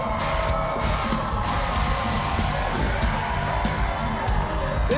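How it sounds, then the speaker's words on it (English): A hot pro wrestling crowd roars and whoops continuously throughout, a dense wall of shouting and cheering with a steady, loud level and occasional higher yells. "This crowd is hot."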